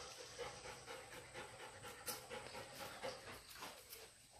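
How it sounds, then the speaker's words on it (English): A dog panting steadily and fairly close, quick rhythmic breaths running for several seconds over a noisy outdoor background, with no one talking. "That's Millie, my dog."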